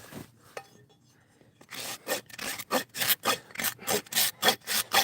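Rasp filing down a high spot on a mustang's hoof heel during shoeing: a few faint strokes, then a close, loud run of rhythmic rasping strokes, roughly two per second.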